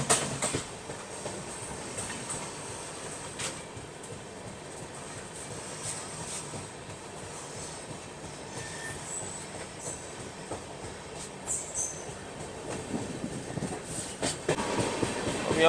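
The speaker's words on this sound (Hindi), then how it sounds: "वेरावल बांद्रा एक्सप्रेस सामने से क्रॉस हो रही है।" The Veraval Bandra Express crosses from the opposite direction, heard from a moving train as a steady, loud rolling rumble with wheel clatter and rail hiss lasting throughout, building slightly toward the end, with no voices.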